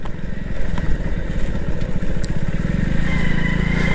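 A motorcycle engine chugs along a rough, bumpy road, close and steady with a pulsing beat and occasional clattering rattles.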